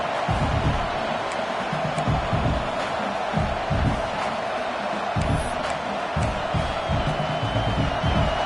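A stadium crowd roars steadily in College Football 26 during an LSU versus Miami game, a dense, continuous wash of cheering at moderate loudness with occasional louder swells.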